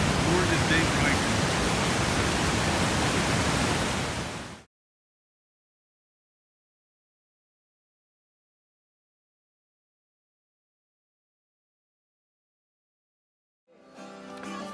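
Water of the Jack River flowing past the bank after a hike, a loud steady broadband rush for about four and a half seconds, then silence until faint sounds return near the end.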